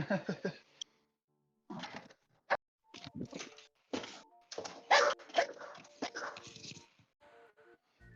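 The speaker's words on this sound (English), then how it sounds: "Now my dog is going off." A dog barks in a burst of loud, sharp barks and yips with some whimpering, close by and irregular over several seconds, with no talk over it.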